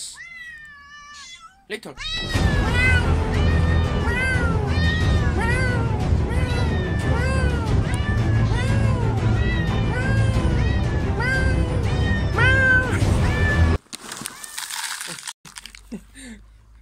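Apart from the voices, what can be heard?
cats meowing at feeding time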